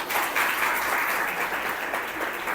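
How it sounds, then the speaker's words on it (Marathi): A seated audience at a spoken address breaks into steady, dense applause, many hands clapping together loudly and evenly throughout, with no voices standing out. "टाळ्या वाजवणार नाही का?"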